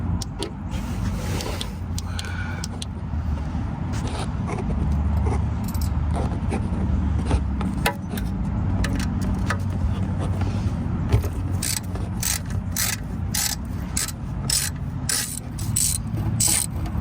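A ratchet clicks in quick repeated bursts while loosening the oil pan bolts on a Toyota Camry V6, set against a steady low rumble of background noise.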